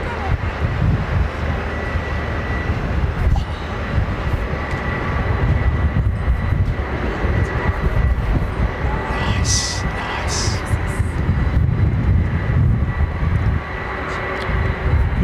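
A white Boeing 767 airliner at London Heathrow gives a loud, sustained jet engine rumble and roar that swells slightly mid-way, with people talking over it.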